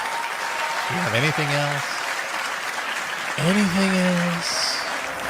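Audience applause at a Samsung Unpacked launch event plays as a steady wash in the background while someone speaks over it near the microphone.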